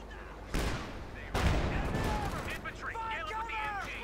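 Bursts of gunfire and explosions from a Company of Heroes 2 match, a sharp blast followed by a heavier booming volley, sounding loud and continuous with a commentator talking over the battle.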